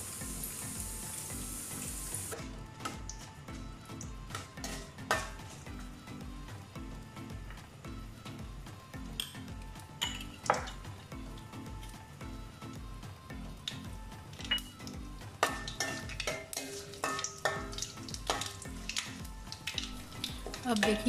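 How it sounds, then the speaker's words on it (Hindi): A tadka tempering for coconut chutney sizzles and crackles in a pan, with scattered pops and spits over a low steady fry, fairly quiet and close. "जब इसमें से थोड़ी सी आवाज़ आने शुरू हो जाएगी, हमारा तड़का तैयार हो जाएगा"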